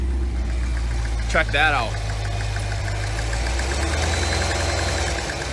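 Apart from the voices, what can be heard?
Cadillac Escalade V engine starting and knocking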